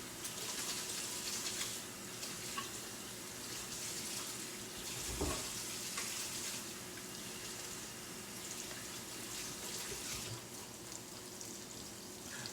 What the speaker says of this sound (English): I can just come over here and wash my hands to be safe